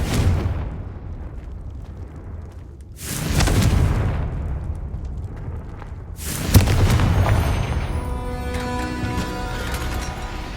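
Fiery Confringo spell explosions in the Hogwarts Legacy video game: two loud, booming bursts a few seconds apart, each with a crackling tail, the second followed by a lingering rumbling hum.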